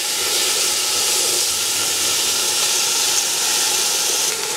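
Entrecote beef searing in a hot Dutch oven, a loud, steady broadband hiss of sizzling fat that holds evenly from start to finish with no talk over it.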